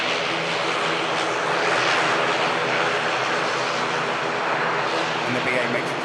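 A Ryanair airliner touching down at Manchester Airport, carried as a loud, steady broadband roar of engines and rushing air that holds its level throughout without a clear peak.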